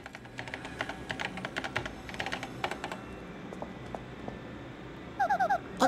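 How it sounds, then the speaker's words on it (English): Quick keyboard typing in Paper Mario: The Thousand-Year Door on Nintendo Switch, a steady run of light clicking keystrokes over soft background music, with a short chirpy game sound near the end. "Use the keyboard in front of you."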